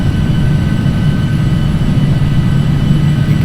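A steady, loud low roar of a Carenado Hawker 850XP business jet's engines in a flight simulator during a runway approach, droning continuously without change.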